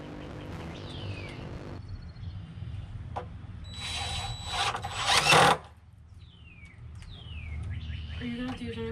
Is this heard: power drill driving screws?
yes